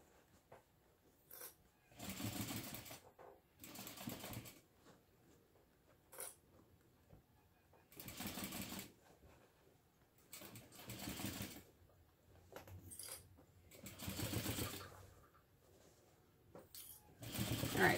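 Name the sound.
sewing machine stitching a seam on a bag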